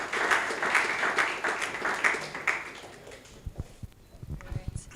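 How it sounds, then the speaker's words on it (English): Audience applause at a legal technology conference event, a dense burst of clapping that thins out after a few seconds into scattered claps, with a voice speaking over the tail end. "Please, a round of applause for her again."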